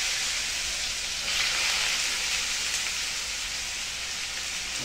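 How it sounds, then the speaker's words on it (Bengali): Carrots for fried rice fry in a pan as a constant, dense hiss that swells slightly partway through, with no talking. "এই যে ফ্রাইড রাইসের দেখো গাজরটা ভেজে নিচ্ছি।"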